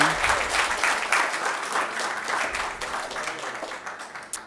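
Audience applause at a city council meeting, a crowd of hands clapping steadily for several seconds, moderately loud in a meeting room and gradually tapering off.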